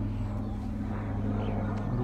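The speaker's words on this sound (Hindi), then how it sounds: "उधर जा रहा है हेलीकॉप्टर।" A helicopter passes over rural farmland beside a river, heard as a steady, loud, continuous engine drone and rumble that holds without letup throughout.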